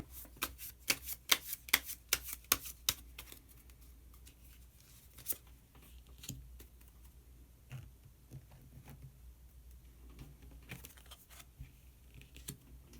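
Tarot cards are shuffled and drawn in a quiet room, a quick burst of crisp riffling clicks at first, then scattered softer slides and taps spaced out over the rest.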